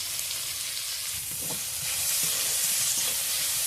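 A cabbage, chopped tomato and grated carrot filling for cabbage rolls sizzles in a hot pan, with soft stirring scrapes over a steady close hiss that swells slightly toward the end.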